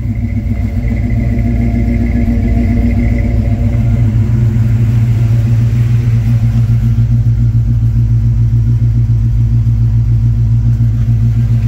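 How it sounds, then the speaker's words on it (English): Chevy engine idling at about 850 RPM after new spark plug wires were fitted, a loud, steady low rumble that holds even throughout, close up with no talking. "There you go, about 850 RPM. Once he puts it in gear, it's gonna drop."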